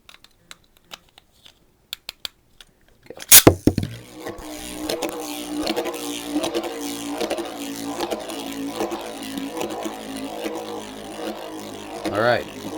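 Metal Fusion Beyblade Lightning L-Drago 100HF spinning top whirring steadily after a sharp launch, a sustained buzzing spin with faint scraping against the stadium floor, continuing alone for several seconds.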